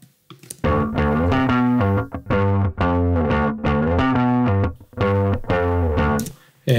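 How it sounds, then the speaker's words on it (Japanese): A bass amp captured through a separate microphone: a run of sustained, slightly distorted bass notes with a chorus-like sheen, played steadily and alone at a moderate level. "アンプを別のマイクで撮った音だったりとか"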